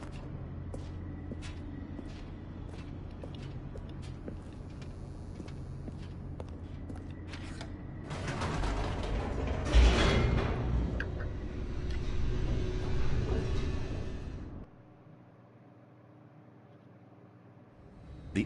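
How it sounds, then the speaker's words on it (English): An elevator in The Stanley Parable descends with a continuous low mechanical rumble and creaking whir that swells louder midway, then cuts off abruptly into a quiet hum. "The elevator raced downward, plummeting towards an unknown fate."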